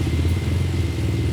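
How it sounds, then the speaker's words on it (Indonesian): Refrigerator compressor running and vibrating as it blows pressurized air, giving a loud, steady low hum that stays constant throughout with no talking. "Ini namanya kompresor."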